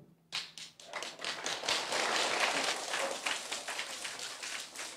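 An audience claps steadily in a Buddhist teaching hall, a dense rain-like patter of many hands starting abruptly and continuing for several seconds without talk.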